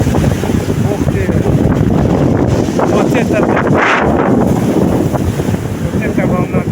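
Storm-driven sea waves surge and crash under strong wind on a shore where the water is rough and muddy, with a continuous loud roar of gusts buffeting close by.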